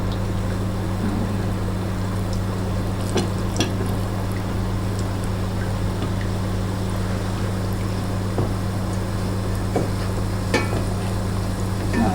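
Shrimp frying and being stirred in hot oil, a steady loud sizzle running throughout with occasional clinks and scrapes of stirring close by.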